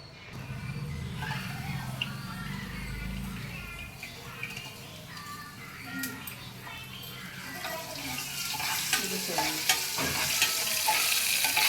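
Spices crackle and sizzle as they temper in hot oil for a mixed dal, a steady frying hiss that grows brighter and busier toward the end, with occasional stirring clinks and a voice faintly in the background.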